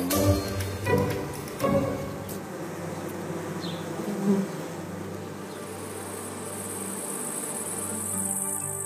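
A colony of bees buzzing in summer, a dense, steady droning hum filling the scene, close and continuous with a few louder individual passes.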